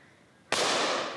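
A single sharp shotgun blast during a rook hunt in the countryside, loud and sudden after near silence, with a broad burst that decays slowly over the following second.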